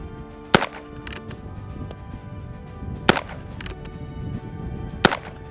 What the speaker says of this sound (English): It is a little more difficult to shoot than a standard rifle